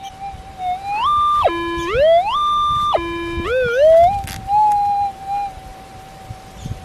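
Warbling metal detector tone over a junk target, jumping between steady high and low pitches with sliding transitions, clear and fairly loud over faint background hiss.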